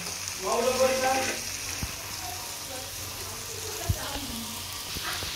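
Beans and finely chopped cabbage sizzling in a pan for Hakka noodles, a steady close frying hiss with a couple of sharp utensil knocks, and someone speaking briefly over it.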